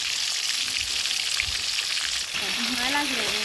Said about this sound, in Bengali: এখানে চিকেন ভাজা হচ্ছে